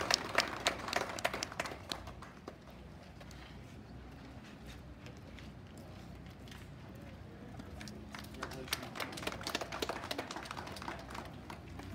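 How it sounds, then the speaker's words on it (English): Bursts of scattered clapping from a modest crowd at a county fair cattle show salute the livestock exhibitors, rising at the start, dying away, then swelling again near the end. "give all these exhibitors one more round of applause"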